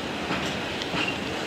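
A long freight train with railway wagons rolls steadily past a level crossing in Elbląg, its continuous rumble and rattle steady throughout, with a brief metallic squeal of wheels.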